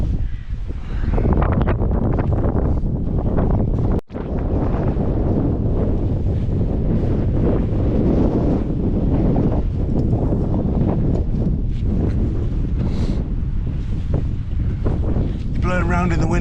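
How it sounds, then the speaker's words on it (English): Strong wind buffeting a microphone outdoors during work on replacing a corroded cowl, a loud continuous low rumble and roar throughout with a brief dropout near the start. "Blowing around in the wind a bit, I may apologise."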